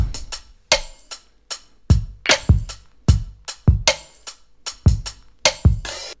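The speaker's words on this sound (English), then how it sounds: "And together the drums sound like this." A dry drum kit groove with punchy kick and snare hits in a steady, repeating pattern, loud and close, no other instruments.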